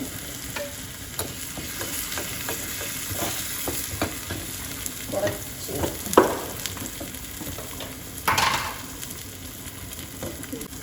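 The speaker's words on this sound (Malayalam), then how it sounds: "കറിവേപ്പില ഇട്ട് കൊടുക്കാം. എന്നിട്ട് ഇളക്കി കൊടുക്കാം." A spoon stirring chicken stew with curry leaves in a pan, soft scraping strokes over a steady low sizzle, fairly quiet, with a couple of louder clinks and scrapes near the end.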